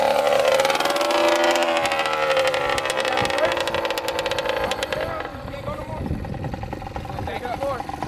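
Dirt bike engine revving high and loud close by, its pitch climbing and then dropping into a rougher, lower rumble, with people talking over it.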